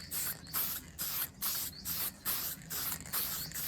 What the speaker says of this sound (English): warmed up the can of paint, get the decals sprayed